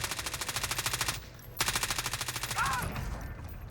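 Rapid automatic gunfire from a scoped LC10 rifle in the video game Warzone, two sustained bursts of evenly spaced close shots separated by a brief pause, with a faint voice underneath.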